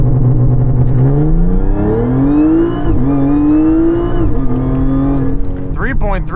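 Supercharged car launching at about 90% throttle, engine roaring loud and close as it climbs through the revs, with a gear change midway and a brief tire chirp near the end; a voice talks over it.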